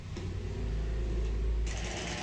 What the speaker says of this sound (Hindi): इसी पॉइंट से सिलाई की शुरुआत करेंगे